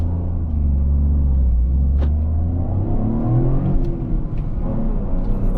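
Turbocharged 1.3-litre three-cylinder engine of a 2024 Toyota GR Corolla AWD driving in traffic, a low steady rumble heard close from inside the cabin, swelling as it pulls and revs.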